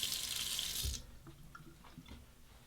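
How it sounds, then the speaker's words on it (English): A hot-water tap runs briskly to warm a Muhle R96 safety razor, a steady close hiss of flowing water for about a second before it shuts off, leaving only soft handling sounds. "Let's warm up the razor under the hot water."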